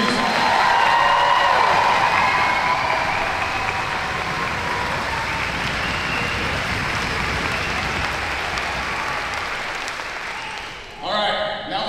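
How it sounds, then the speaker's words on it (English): A big crowd gives a long, loud round of applause for drill instructors at a boot camp graduation family day, a roaring wash of clapping and cheers that holds for about ten seconds, then drops off sharply. "Round of applause for our drill instructors, please."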